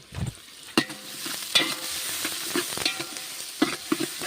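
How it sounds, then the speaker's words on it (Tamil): Onions for a large batch of vegetable biryani sautéed in a pan, a steady sizzle with repeated sharp scrapes and clanks of a stirring spoon, close and fairly loud, no talking. "சரி வாங்க வெங்காயத்தை போய் வதக்கலாம்"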